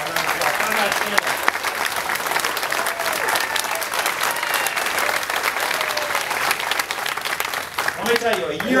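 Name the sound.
audience applause for Senator Conrad Appel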